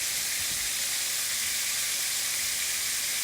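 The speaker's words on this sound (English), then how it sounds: "I'm frying the last pieces," Cubed steak pieces browning in a pan give off a constant, even sizzle and crackle of frying oil, close and uninterrupted, with no talking.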